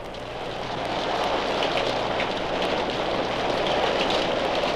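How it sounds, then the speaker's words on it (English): Rain falls in a steady, dense hiss that builds slightly at the start and then holds constant throughout, with no voices. "a lot of time went by, and it rained a good deal."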